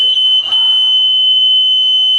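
A fire sensor's buzzer in a school project model sounds a steady, loud, continuous high-pitched electronic tone, with a faint brief click near the start.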